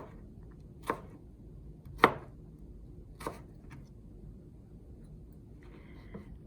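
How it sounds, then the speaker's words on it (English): A knife cuts stacked vegetable slices into julienne on a cutting board, making three distinct, fairly close chops about a second apart and then a softer tap in an otherwise quiet room. "Stacking them up gives you a faster cut."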